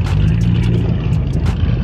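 A car engine rumbles steadily nearby at a Texas Mile top-speed event, then pulls away, with a few sharp higher bursts over the continuous low drone.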